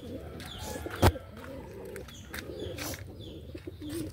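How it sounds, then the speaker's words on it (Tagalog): Pigeons cooing in soft, low, repeated calls close by, with one sharp bump near the start and light background noise. "Mga kalapatids. Ito sila."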